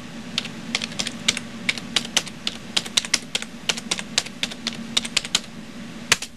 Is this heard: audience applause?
no